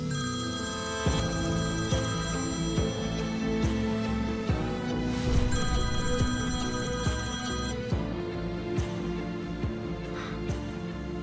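A telephone rings steadily and keeps repeating at moderate volume, mixed with a layered musical background and no clear speech.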